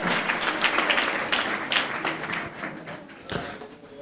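A church congregation applauds during a charismatic worship service, a dense, steady wash of clapping that rises and fades over several seconds, with a brief sharper burst near the end.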